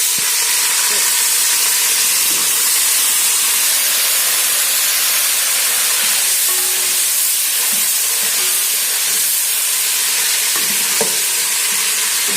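A splash of water hits onions frying for vegetable pulao, sending up a loud, steady steam hiss and sizzle with a few faint stirring knocks, close and continuous.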